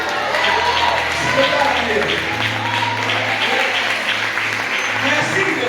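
A church congregation applauds in a sustained, dense wash of clapping that fills the room, with voices calling out and a preacher speaking over the crowd.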